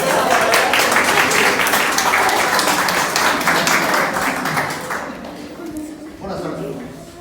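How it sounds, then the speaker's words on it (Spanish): Audience applause at a staged religious play performance, dense clapping filling the room and gradually thinning near the end, with some crowd voices mixed in. "Aplausos."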